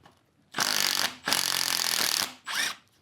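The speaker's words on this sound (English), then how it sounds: "Looks like our rocker cover bolts are going to round out," A wrench loosens a stubborn, crusty rocker cover bolt on a Subaru Outback engine: three loud, rasping mechanical bursts, the middle one longest, separated by brief pauses.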